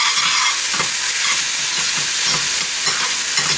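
Spinach leaves wilting in a hot pan for a healthy breakfast, a loud steady sizzle and hiss of frying with faint stirring scrapes underneath.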